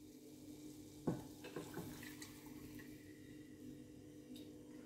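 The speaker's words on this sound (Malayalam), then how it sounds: "ഇനി ഇതിലേക്ക് 1/4 കപ്പ് പാല് ഒഴിക്കുകയാണ്." Milk pours into a pan of butter and flour, a faint, soft liquid splash and gurgle that is quiet and close, with a few light knocks near the start.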